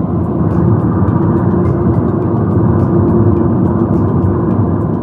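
Interior of a cab on the road, with a loud, steady low engine and road rumble holding constant throughout.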